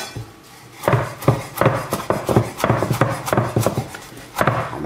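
A knife chopping parsley coarsely on a cutting board in quick, uneven bursts of sharp taps, close and moderately loud.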